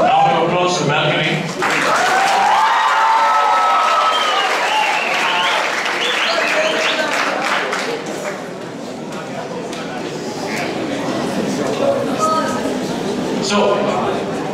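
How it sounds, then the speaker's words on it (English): Audience applause for the balcony section at a drama competition awards ceremony, a loud sustained burst of clapping from a large hall that gradually thins, with some talk and chatter mixed in. "Round of applause for the balcony."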